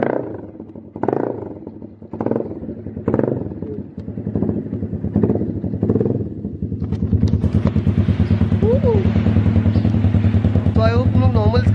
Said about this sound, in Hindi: अब हम इसे ऑन करके देखते हैं मेन पार्ट.